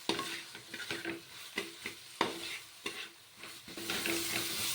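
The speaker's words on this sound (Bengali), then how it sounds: "এখন আরও মিনিট দুয়েকের মতো আমি মশলাটাকে ভেজে নেব আলুর সাথে" Spices fry with potatoes in a pan, a soft sizzle under sharp, regular stirring scrapes about every half second, with the frying swelling louder at the end.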